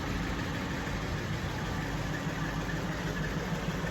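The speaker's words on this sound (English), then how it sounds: "Got a fairly familiar flathead V8, all stock." A stock flathead V8 in a shop-built Ford woodie idles steadily, a continuous low rumble with no break or change in pace, close and alone without any talk.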